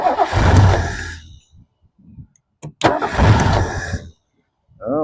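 A 1969 Lincoln engine, off the road for 50 years, cranking and catching in loud, rough bursts that cut out into silence between attempts, close by.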